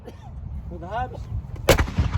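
A Civil War cannon fires a single deep, booming round that rolls out after a voice calls commands, the blast loud and echoing for a moment.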